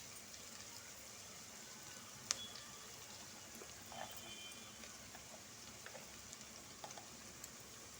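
Vegetable noodles roasting in a pan for street-style veg noodles, giving a faint, steady sizzle with occasional soft clicks and taps, no talking.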